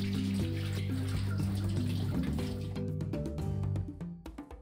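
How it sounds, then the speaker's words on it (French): Tap water runs steadily while hands are washed with soap and water, then the flow stops and scattered drips and splashes follow, close and clear. "l'aider à se laver les mains à l'eau et au savon, souvent et en particulier avant les repas."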